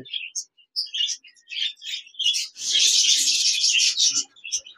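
Budgerigars and other small cage birds in a shop, chirping and twittering in quick bright bursts close by, swelling into a dense warbling chatter midway before thinning to scattered tweets.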